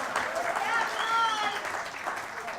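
Applause from a group at a Baltimore Ravens gathering in Super Bowl week, a steady dense patter of clapping with a harmonic whoop or whistle briefly rising over it and voices mixed in.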